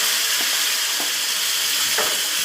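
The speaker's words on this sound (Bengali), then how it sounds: "এবার এই পেস্টটা আমি এর মধ্যে ঢেলে দেবো।" Spinach and coriander paste pours into a hot pan and sizzles loudly and steadily, with a few soft stirring scrapes breaking through the hiss.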